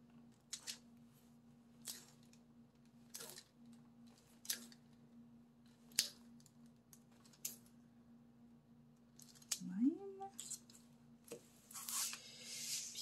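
Scissors snipping material for a diamond painting canvas, a series of short crisp cuts spaced about a second apart, close and fairly quiet over a steady low hum, with a brief rustle near the end.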